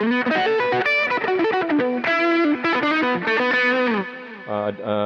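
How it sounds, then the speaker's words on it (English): Electric guitar with mild low-gain overdrive from a Boss GT-1 plays a fast melodic run and sustained notes, warm and slightly gritty, ending on a few chords. "my other low gain overdrive sound here"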